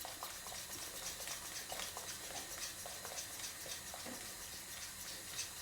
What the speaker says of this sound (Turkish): Ve hızlıca karıştırıyorum.